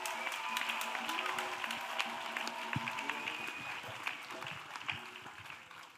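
A church congregation claps and applauds steadily throughout, a dense, continuous wash of many hands with some voices mixed in, fairly loud and even from start to finish.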